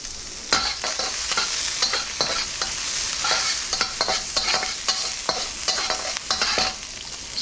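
Aromatics stir-fry in a smoking hot wok for Sichuan fish fragrant pork, a loud continuous sizzle broken by frequent rhythmic scrapes and clatters of the spatula tossing them, close and without voices.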